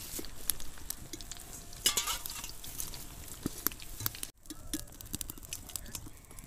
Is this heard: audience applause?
no